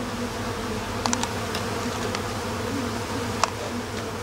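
A large honeybee swarm drones steadily inside a hive, a dense continuous low buzz close by, with a few sharp taps and knocks of wood along the way.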